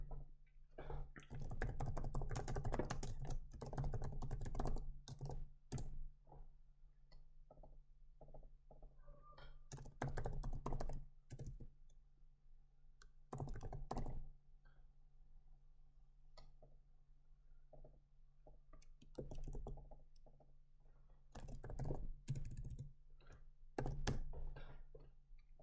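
Typing on a computer keyboard while entering a spreadsheet formula, heard as close, quiet bursts of rapid key clicks separated by pauses, with no talking.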